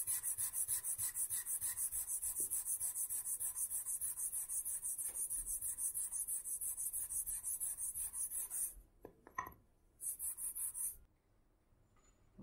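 A wooden guitar is hand-sanded with 320-grit sandpaper in steady, rapid back-and-forth rubbing strokes. The scratching is close and continuous, then breaks into a few short strokes before stopping.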